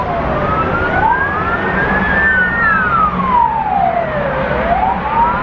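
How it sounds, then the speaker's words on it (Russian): A fire engine siren wails loudly, its pitch sweeping up and down in long slow cycles over a rumbling traffic background, heading to a house fire. "Еще одна пожарная машина едет."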